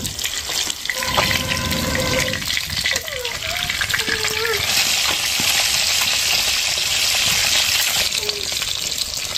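Fish fries in a pan of hot oil for a village-style fish curry, a steady loud sizzle filling the whole stretch, with a few clinks and scrapes and some faint talk in the background.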